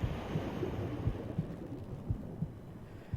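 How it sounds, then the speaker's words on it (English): Muffled, regular heartbeat thumps pulse in pairs beneath a low underwater rumble, the danger cue in a great white shark hunting video game, with no speech. "Don't know if that was the one setting off the heartbeat."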